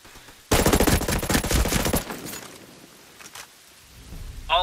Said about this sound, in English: I'm taking hostile enemy fire.